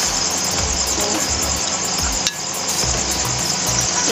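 Goat head curry cooking in a pan with ghee, a dense, steady sizzle and crackle of frying close up, with one brief clink of a utensil midway and no talk.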